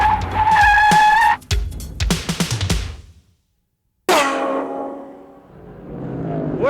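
Race cars in a 200-lap CASCAR stock car event roar past loudly, tires squealing, then a short silence before another car screams by and fades, no voices.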